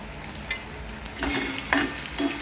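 Turmeric, masala, coriander powder and garam masala fry in a pan for moth bean dal, a soft continuous sizzle broken by a few sharp spoon scrapes as they are stirred.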